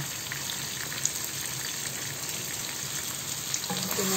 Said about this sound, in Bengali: এই কারণে পটলটাকে আগে একটু ভেজে নেব